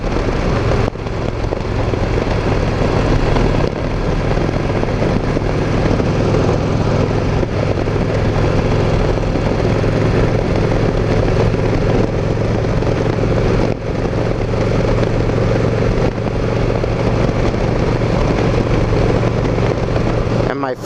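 A 2015 Victory Cross Country touring motorcycle fitted with a stage 1 exhaust gives a continuous low, loud engine rumble throughout with a steady drone, mixed with wind noise while riding.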